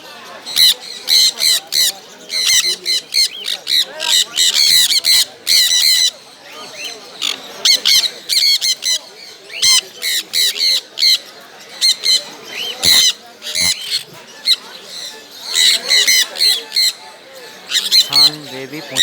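Many pet birds squawking and screeching at the Sunday bird market on Galiff Street, Kolkata: dense, overlapping shrill calls in rapid bursts, loud and close, with constant chatter throughout and no talk.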